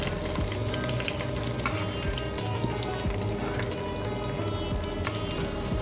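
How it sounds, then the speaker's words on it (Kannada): Onions sizzling in a pan for Mangalorean chicken curry, a steady dense crackling fry with occasional stirring scrapes, close and constant throughout. "ಮತ್ತೆ ನೀರುಳ್ಳಿ ಫ್ರೈ ಮಲ್ಪಲೆ"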